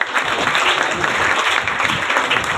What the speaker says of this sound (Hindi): अब इनके लिए तालियां बजाइए।